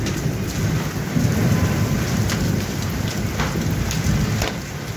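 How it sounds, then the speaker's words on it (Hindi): Heavy rain pours steadily during a hailstorm in Jalandhar, India, with a deep rumble of thunder rolling underneath, loud and close, no voices. "तो आप सुन सकते हैं बारिश और बादल की कितनी तेज जो आवाज आ रही है"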